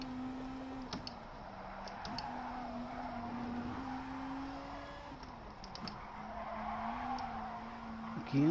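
In a racing video game, a car's back end slides out while downshifting, with a sustained engine drone and tyre skid squeal running steadily under light clicking.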